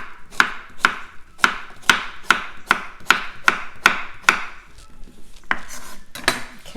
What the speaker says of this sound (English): And I cut it in half, and then half again, and then slice them.